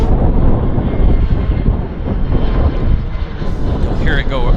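A Convair 580 propeller airliner roars loudly overhead at an airport, a sustained broadband engine drone that swells and holds steady throughout, with a faint whine rising near the end.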